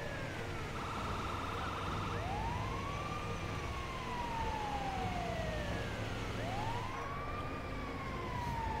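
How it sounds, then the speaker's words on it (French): A paramedic ambulance siren in GTA V wails in long rising and falling sweeps, loud and steady over a constant road rumble, no talk. "Moi j'aime bien conduire avec les sirènes et tout."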